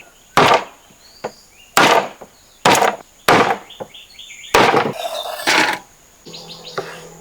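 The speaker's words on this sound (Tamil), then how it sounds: "அடுத்ததாக சீவி வச்சா உருளைக்கிழங்க வெட்டிடுவோம்" Knife strikes on peeled potatoes against a board, about eight sharp, separate chops at irregular spacing, close and loud, with faint bird chirps in the background.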